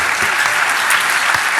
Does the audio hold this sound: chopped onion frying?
no